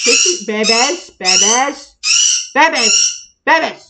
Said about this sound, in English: sorry about the birds yelling at us